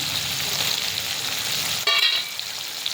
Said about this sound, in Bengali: আমি গোটা জিরে খুঁজছিলাম ফোড়ন দিয়ে দিলাম